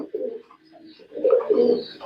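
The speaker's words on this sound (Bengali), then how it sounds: "এই দেখেন কবুতরটা, সেরকম একটা কবুতর" A female pigeon of top-quality breeding coos close by in two low, throaty phrases, a short one followed by a longer, fuller rolling coo, with no talking over it.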